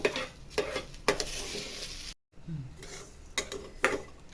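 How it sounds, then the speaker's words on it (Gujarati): Moong dal roasts in a pan over a gas flame, with a continuous sizzle and repeated scraping, clinking strokes of a spoon as it is stirred. "કોઠીમાં ગેસ પર શેકવાની છે પાંચ પાંચ મિનિટ પાંચથી વધારે મિનિટ લાગશે"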